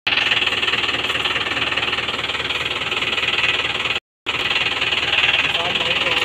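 A Mahindra 575 DI XP tractor engine labours under load pulling a trolley full of logs, a loud, steady knocking chug with one brief cut-out near the end.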